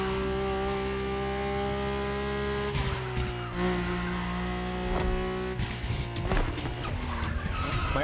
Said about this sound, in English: My ultimate appointment in this country was set with the breathtaking Mercedes AMG 1.